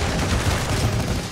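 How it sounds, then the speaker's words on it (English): Sniper gunfire in the video game Blue Archive: a dense, continuous crackle of shots and blasts fills the whole short stretch at steady loudness, with no talking. "I'll use Fortuna to deal with the sniper."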